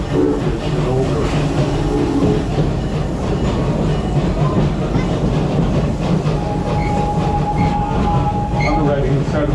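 The yellow train ride at Busch Gardens Tampa rumbles along its track in a loud, continuous roll of wheels and car noise, close up, with a faint squeal partway through.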